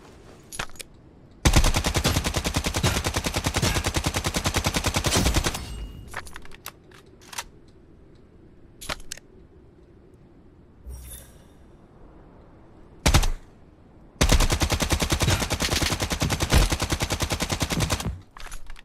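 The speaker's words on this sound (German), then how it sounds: "Oh, da schießt noch einer, sein Kumpel." Enemy gunfire in the video game Lost Light: long, loud bursts of rapid automatic fire, interspersed with short isolated shots and quieter pauses, then another sustained burst near the end.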